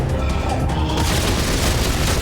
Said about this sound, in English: You hit him with the telemetry spike.